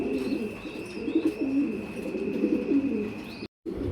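Pigeons at a Bangladeshi pigeon farm coo in repeated low, throaty rolls close by, over a steady high electrical hum and faint chirps, before a brief cut to silence near the end.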